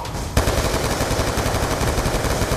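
A ceiling-mounted gun turret in Black Ops 2 opens up with sudden, loud, continuous rapid automatic fire that hammers on without pause at close range, alone, with no voices.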